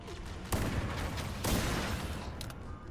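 Gunfire crackles in the Halo: Combat Evolved campaign, where two loud bursts of weapon fire roll into dense rattling shots over a steady game backdrop, with no talk.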